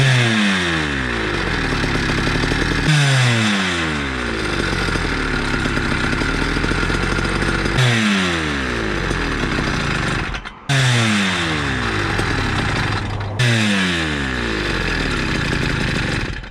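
A motorized bicycle engine running a cheap chainsaw carburetor four-strokes loudly and up close, its revs repeatedly sagging in falling sweeps and then climbing back, with a brief dip before it picks up again.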